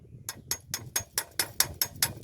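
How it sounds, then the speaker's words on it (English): Nine sharp metallic taps with a knife on a drilled Powerflex Powerpost, struck in a steady, fairly quick rhythm, close by and crisp with no talking. "I'll take my knife and tap it"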